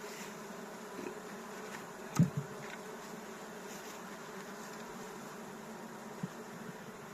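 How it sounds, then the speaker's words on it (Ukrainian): Honeybees crawling onto empty hive frames give a steady, soft buzzing hum that runs throughout, with a couple of brief knocks partway through and no speech. "відразу ми бачимо, як пчоли починають переходити на рамки"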